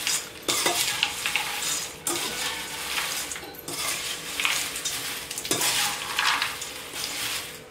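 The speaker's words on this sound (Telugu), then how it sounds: "ఈ విధంగా కలుపుకోవాలి." Snack mixture stirred in a hot pan, with a spoon scraping and clinking against the metal in several separate passes over a continuous frying sizzle, close and fairly loud.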